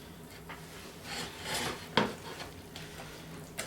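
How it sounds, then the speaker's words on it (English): A flour mixture is stirred into blintz batter in a bowl, with soft rubbing and scraping strokes and an occasional sharper knock of the utensil against the bowl, close and quiet. "we're going to add the flour mixture a little bit at a time and incorporate it in"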